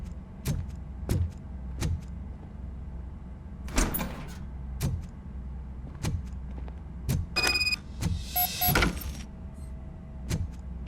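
A door opening in the RoboCop: Rogue City video game, heard as a run of sharp mechanical clunks and thuds spaced through the moment, with a brief whirring motor and a metallic whine near the end over low hum.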